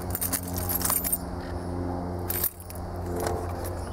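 A Harley motorcycle's ignition keys jangle and scrape close by for a few seconds, with a sharp metallic clack midway and no voices.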